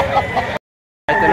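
Chickens for sale at a market cluck close by while people talk over them, with the sound cutting out completely for a moment midway before resuming.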